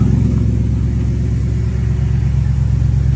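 A 1972 Dodge Charger engine idles loudly and steadily with a deep, continuous rumble and no voices.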